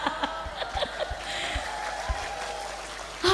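Listeners at a humorous religious sermon clap and laugh, scattered light applause mixed with chuckles and murmuring, fairly faint, ending in a brief louder burst.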